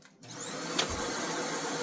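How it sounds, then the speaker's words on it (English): A vacuum cleaner with its brush roller spinning starts up after a brief quiet moment, then runs as a loud, steady whine and whir, close by, with no talk. "So the brush roller is working. I'm going to vacuum."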